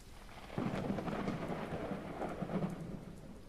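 Rain pours steadily in a thunderstorm in the dinosaur survival game The Isle, with a low rumble of thunder swelling in partway through and rolling on under the hiss of the downpour.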